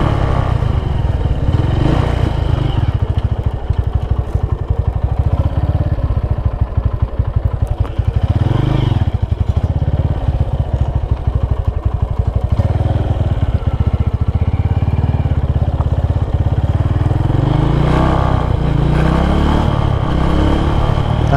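Honda Tiger 2011 motorcycle rolling downhill on engine braking, a steady close engine drone with wind rush and faint rattles, rising slightly toward the end.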